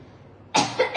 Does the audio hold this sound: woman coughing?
yes